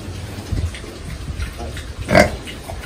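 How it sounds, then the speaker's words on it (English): A mother pig grunting near her piglets in a pen, with low, soft grunts repeating irregularly and a louder squeal-like snort near the end, all close and unaccompanied by speech. "We're waiting for this mama pig to lay down and feed her babies."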